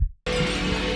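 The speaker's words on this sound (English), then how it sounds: "you're just breaking through so much glass" Glass shatters in a Blade Runner scene: a brief pause, then a sudden loud crash of breaking glass that spills into a dense, sustained clatter of shards.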